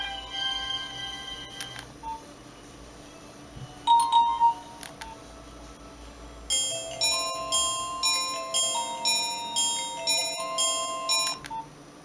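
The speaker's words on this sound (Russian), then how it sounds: "а тут мелодии для будильников," Nokia 1110 phone playing monophonic ringtone melodies: a few short beeping phrases, then a repeating bright electronic tune that rises and falls in even pulses.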